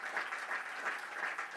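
A church congregation claps steadily, a dense and even wash of applause heard at moderate distance with no clear individual claps standing out.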